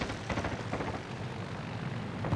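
Carrier aircraft from World of Warships Legends drone steadily overhead, a continuous loud engine roar with a rumbling low end and no voices.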